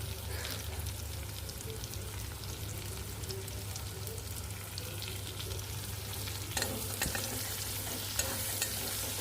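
Spices with salt and turmeric are stirred together in a hot cooking pan, giving a soft steady sizzle with scraping stir noises and a few sharper clinks near the end, fairly faint with no talking.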